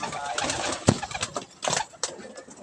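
Racing pigeons coo and flutter in a loft, soft and close, in short bursts with background rustling and someone talking quietly nearby.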